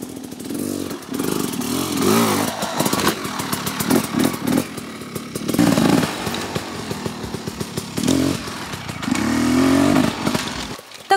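Motocross motorcycles on a training ground, engines revving and rising and falling in repeated bursts as bikes accelerate and pass, with rattling mechanical clatter between throttle blips.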